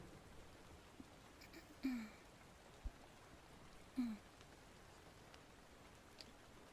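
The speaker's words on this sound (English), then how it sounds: "Let me know if the rain sounds are too loud." Soft, steady rain hiss plays quietly as background ambience, with a couple of brief faint tonal chirps and small taps over the even wash of noise.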